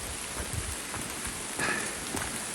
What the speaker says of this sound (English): Still raining though.